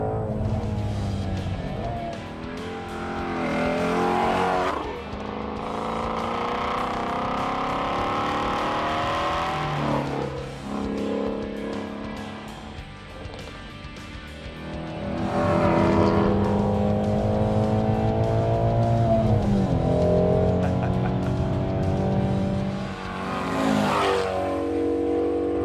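A Ford Mustang Shelby GT350R is driven hard on a race track, its engine roaring loud and raw through repeated climbs in revs, gear shifts and brief lifts, sustained throughout.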